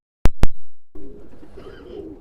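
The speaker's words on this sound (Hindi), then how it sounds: "ये डोनाल्ड ब्लड लाइन का कबूतर है" After two sharp knocks, a Donald bloodline pigeon gives a short, close, rolling coo that fades over about a second.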